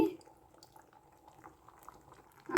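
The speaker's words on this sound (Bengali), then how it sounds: "বয়েল হয়ে গিয়েছে" Vegetables boiling in a pot for a sambar-spiced dish, a low steady bubbling with small drips and pops, quiet and close, ending in a louder clatter.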